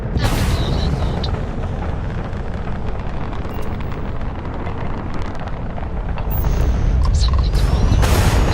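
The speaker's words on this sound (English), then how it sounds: "The ship's weapons are powering up." Spaceship weapons powering up in Starfield: a steady, loud rumbling roar with mechanical layers and scattered sharp high tones, building to a brighter, heavier surge near the end, with no talking.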